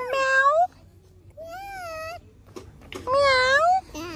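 A cat meows three times in a house, each call a clear rising-falling cry close by, separated by short quiet gaps with no talk over them.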